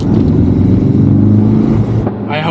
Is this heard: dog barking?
no